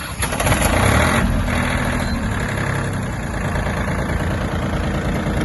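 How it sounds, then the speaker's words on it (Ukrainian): A Mitsubishi MT-20 mini tractor's diesel engine cranks and catches, then settles into a loud, close, steady rattling idle. "Свіча нагрілась, заводимо."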